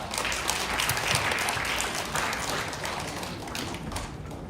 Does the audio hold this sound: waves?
no